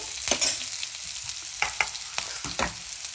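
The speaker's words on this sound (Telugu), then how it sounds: "ఈ ముల్లంగితోటి వేగిపోతుంది ఫ్రెండ్స్" Sliced radish frying in a hot pan with a steady high crackle, broken by several scraping strokes of a spatula stirring it.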